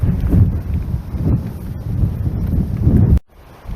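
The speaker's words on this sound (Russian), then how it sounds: "какой ветер" Strong wind buffets the microphone on a mountain lakeshore in the Pamirs of Tajikistan, a loud, gusty roar that cuts off abruptly near the end.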